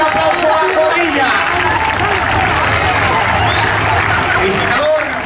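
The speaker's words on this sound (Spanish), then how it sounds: "al unísono un aplauso a la cuadrilla" Applause from a crowd at a cow-running event in a village bullring in El Burgo de Ebro, a dense, steady roar of clapping and babble throughout, with an announcer talking over it.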